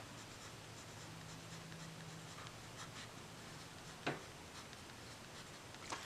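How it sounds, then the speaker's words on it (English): A pen writing on a paper label during hand bookbinding, while signatures are sewn in: soft, steady scratching strokes, faint and close, with a brief sharper scrape partway through. "I'm going to write on here top, and I'm going to write 6 running stitch"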